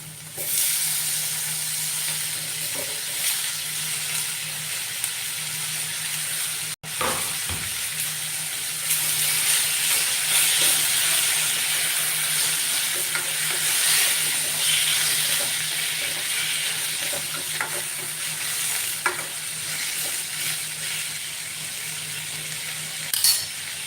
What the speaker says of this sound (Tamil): இப்போ வெங்காயம் ஓரளவுக்கு வதங்கிடுச்சு இது கூடவே தக்காளி சேர்த்துக்கலாம்